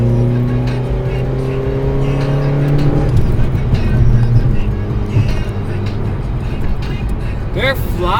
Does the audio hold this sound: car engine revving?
yes